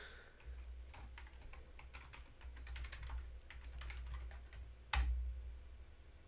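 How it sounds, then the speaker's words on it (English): Rapid, uneven key clicks from a computer keyboard during a live coding session, typed alone at close range over a low steady hum, ending in one sharper, louder keystroke near the end. "I'll just hand type it."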